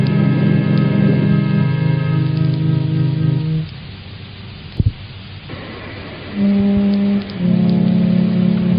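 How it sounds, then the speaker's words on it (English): Steady rain falling, a broad, loud hiss close by that sits under sustained musical tones, briefly thinning midway before a sharp knock and then returning at full strength. "It's still raining."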